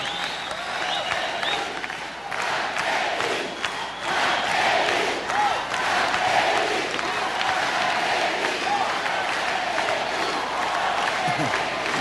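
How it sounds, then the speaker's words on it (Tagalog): A crowd of church members shouts and cheers loudly at a Bible exposition gathering, the sustained roar and clapping filling the space with scattered whistles. "Natutuwa ako sa sigawan ng mga kapatid at ng ating mga panahin"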